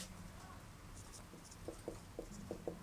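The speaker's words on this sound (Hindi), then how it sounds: "सबसे पहले लिखेंगे सॉल्व" Chalk or marker writing on a board during a maths lesson, a quiet series of five or six short taps and strokes close together near the end, over faint room hum.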